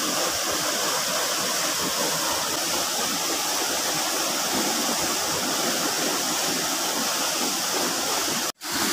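Steady rushing splash of water from a small, low waterfall at Alitap Falls into a deep pool, close and loud, a broad even roar that cuts out abruptly near the end.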